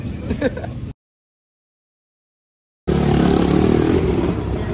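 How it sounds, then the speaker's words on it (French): A 250 motocross bike fitted with a short PPS exhaust line revs loudly and close at a motocross final in the USA, cutting out briefly after a first burst and then returning as a steady, sustained engine roar. "Lucas a remis la petite ligne PPS, là ça va craquer"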